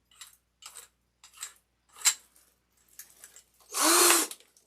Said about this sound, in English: So we're just going to drill a hole in here.